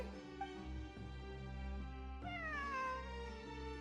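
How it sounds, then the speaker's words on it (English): A cat meows repeatedly in the video game Genshin Impact over a steady, droning musical background, with several clear meow calls rising and falling, the last one longer and drawn out. "It really is a cat."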